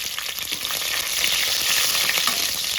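Cumin seeds, curry leaves, garlic pieces and green chillies hit hot oil in a pressure cooker, giving a loud, steady close sizzle that swells slightly partway through, with no talking.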